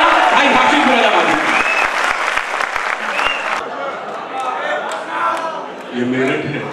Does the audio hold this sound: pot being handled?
no